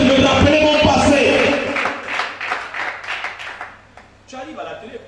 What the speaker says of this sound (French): Acclame ça. Acclame bien.